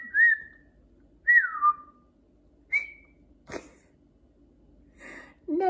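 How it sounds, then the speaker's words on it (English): A man whistles tunelessly in short, wandering phrases with slides up and down, separated by pauses, a sharp breathy snort and other small mouth noises, close to the microphone. "But I won't miss his whistling because there's no tune to it."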